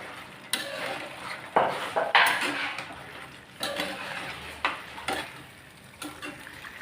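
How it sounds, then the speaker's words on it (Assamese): Chicken with chopped ginger being stirred in a cooking pan for black pepper chicken, giving irregular scraping and clanking strokes of a utensil against the pan over a soft sizzle, close by and with no one talking. "তাৰপিছত ছিটাই দিয়াৰ পিছত আমি ধুনীয়াকৈ লৰাই দিম"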